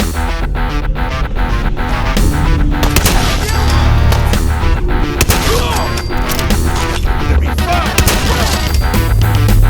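Super shotgun blasts in Fallout 4 played in tight underground spaces, loud repeated booming shots over driving music, with dense rapid fire throughout.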